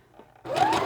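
Sewing machine stitching knit material for doll tights, a short close burst of motor whir that starts abruptly after a quiet moment and runs steadily.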